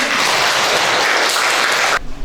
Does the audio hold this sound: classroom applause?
yes